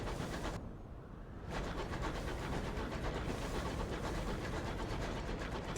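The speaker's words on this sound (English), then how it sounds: "These train noises are killing me." Continuous rolling rumble and clatter of a train in the Sunless Skies video game. A brief quieter dip comes near the start, then the noise holds steady and dense to the end, with no talking.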